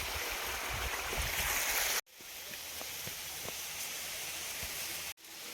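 Irrigation water runs steadily through a channel in a sorghum field, a continuous broadband rush with brief cuts, with faint knocks and rustles close by and no talking.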